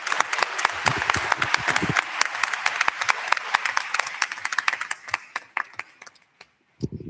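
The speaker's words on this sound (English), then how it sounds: "How about a round of applause for them, please?" An audience at a school board retirement meeting claps loudly, individual hand claps distinct and close, gradually thinning out and dying away to near silence at the end.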